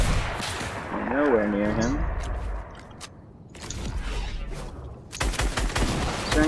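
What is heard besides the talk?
sniper rifle and gunfire in a video game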